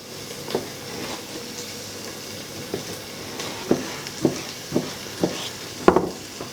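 Tail fat hisses and sizzles steadily in a hot pan, with occasional soft knocks and taps rising above the frying.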